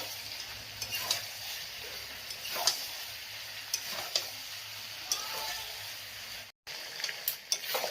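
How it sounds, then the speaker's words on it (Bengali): Meat and pre-fried potatoes sautéing together in a pan, with a soft steady sizzle and intermittent spatula taps and scrapes. There is a brief dropout near the end. "এখন এর মধ্যে আলুটাও কিন্তু বেশ ভালোভাবে কষিয়ে নেব মাংসের সাথে"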